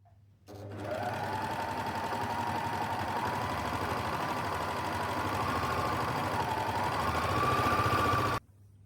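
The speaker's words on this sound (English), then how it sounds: "So all you've got to do is just sew around." Sewing machine running steadily around an elasticated dress waistband, a continuous, fairly close mechanical whirr with a rhythmic needle chatter that starts after a brief pause and stops abruptly near the end, with no talk.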